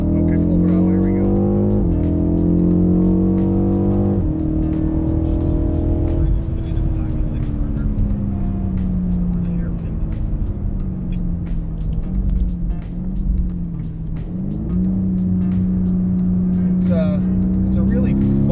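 A BMW M850i xDrive engine roars loudly at full throttle on a track, revving up through gears with shifts and pitch climbs, sustained and close.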